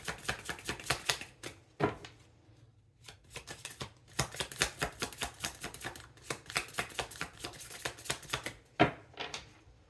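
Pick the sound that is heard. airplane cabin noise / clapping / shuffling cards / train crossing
shuffling cards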